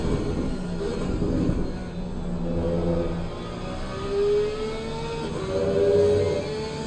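A Porsche race car engine in the video game Assetto Corsa Competizione drones and revs in rising pitch sweeps, moderately loud and continuous, with a steady mechanical hum underneath.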